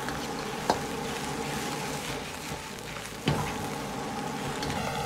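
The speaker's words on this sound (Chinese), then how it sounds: "保持大火翻炒大概一分半钟左右，把油菜炒至稍微发软" Rapeseed greens being stir-fried over high heat on a home stove, with a steady close sizzle and a couple of sharp spatula knocks against the pan.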